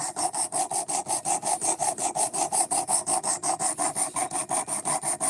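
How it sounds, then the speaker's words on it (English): A blade is drawn back and forth across the stones of a sharpening system in a fast, even rhythm of about five rasping strokes per second, close and clear with no voices. "This thing is phenomenal for sharpening"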